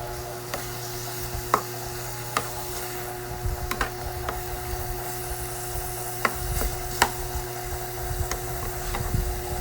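Ground pork giniling and sayote being mixed in a pan: scattered utensil clicks and scrapes against the pan over a low sizzle and steady background hum, fairly close, with no talking.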